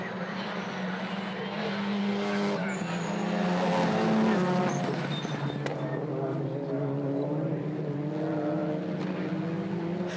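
TCR touring race cars roar through the first-lap chicane at turn 1, a steady, dense engine drone holding for about ten seconds with a slight swell near the middle and no voices.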